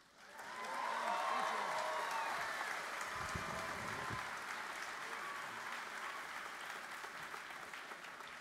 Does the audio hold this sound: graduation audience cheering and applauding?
yes